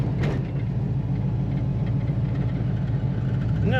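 A 1948 Ford Super Deluxe's engine hums steadily while driving, a continuous low rumble with mid-range whir filling the cabin at constant loudness, without any talk.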